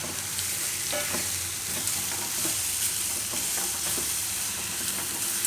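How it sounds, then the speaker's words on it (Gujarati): Corn upma is stirred in a hot pan, with continuous loud sizzling and frying hiss and scattered scraping stirring strokes, close up and without speech. "થોડીક વાર હલાવી લઈએ."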